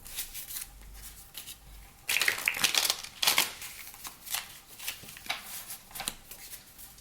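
Cards are shuffled up close in several quick riffling bursts, crisp papery flutters with short pauses between them.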